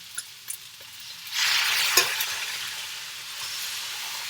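Phat Thai sauce hits a hot wok and is stirred, starting with a few soft clicks, then swelling into a bright, steady sizzle with a sharp scrape midway before settling to a quieter hiss.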